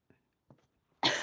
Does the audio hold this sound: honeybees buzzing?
no